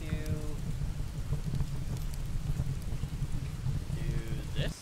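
A steady downpour of rain patters continuously close by, a dense hiss with low rumble underneath and faint tonal chirps near the start and end.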